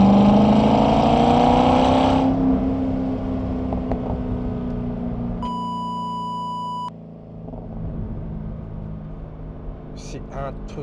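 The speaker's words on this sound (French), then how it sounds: "Là, les gars, le V8, c'est masterclass." A Corvette C6 with a 400-horsepower V8 accelerates along a straight, its engine note loud and rising at first before easing off, with a brief electronic tone partway through and faint voices near the end.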